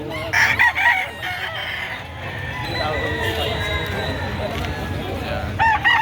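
Roosters crow repeatedly at a busy chicken market in Padre Garcia, Batangas, with sharp calls near the start and end over a constant crowd murmur and people talking.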